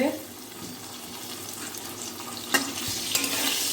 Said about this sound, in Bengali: আলুটা লাল লাল করে ভেজে নিয়েছি এখন নামিয়ে নেব